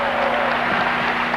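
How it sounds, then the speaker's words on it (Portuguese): Dense, steady clapping from a crowd, filling the short moment evenly without pauses. "E agora, durante o aplauso"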